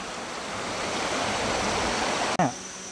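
A forest waterfall pours in a steady, full roar of rushing water, close and continuous, with a brief dip and jolt near the end.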